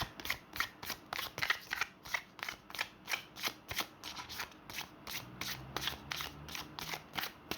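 Tarot cards are shuffled and drawn close to the microphone in a steady, rhythmic series of crisp riffles and soft snaps, with no voices.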